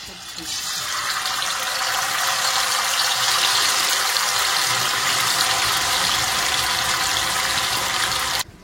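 Chicken pieces for a Bangalore-style Meghana biryani drop into hot oil and set off a loud, steady hiss of frying that rises within the first second, holds evenly throughout, then cuts off abruptly at the end.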